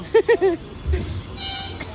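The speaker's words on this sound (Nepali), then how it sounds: "कत्रो बजाउँछ हौ हर्न चाहिँ भगवान्" Three short honks of a bus horn sound in quick succession near the start, followed by a low engine rumble and faint background noise.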